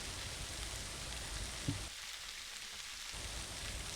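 Beyond sausage patties brown in a pan with a soft, continuous sizzle, like steady rain, heard from a short distance. One faint clink sounds, and the hiss briefly thins before it returns.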